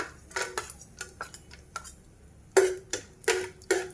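Chopped almonds dropped into a frying pan while making finger millet laddu give a string of light, crisp clinks and ticks against metal, with some louder taps near the end.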